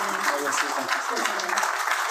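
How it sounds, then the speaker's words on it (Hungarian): Studio audience applause at a Hungarian talk show, a steady dense clatter of clapping hands filling the short stretch at even loudness with no voices on top. "Önnek jár a taps."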